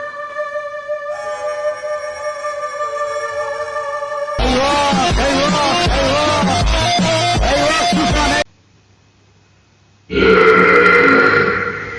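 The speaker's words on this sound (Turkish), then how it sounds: "Adam ağzından osurmuş birader." A loud, drawn-out burp rumbles up close for several seconds, then cuts off, followed by a brief quiet gap and a burst of harsh noise.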